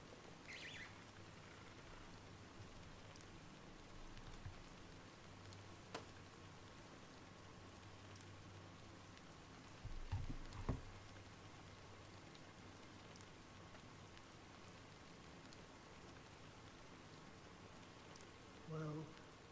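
Soft steady rain falls in the video game Honkai: Star Rail, a faint even hiss throughout with a couple of brief louder knocks and a short low tone near the middle.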